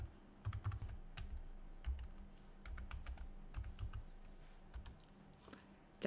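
Keys clack on a computer keyboard as an Instagram address is typed into a blog design page, with quiet irregular taps in short bursts at close range and no talk.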